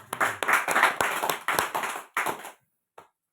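A gathering at a pastors' association meeting in Alor bursts into a short round of clapping that starts strongly, fades out after about two and a half seconds, and ends with one last clap.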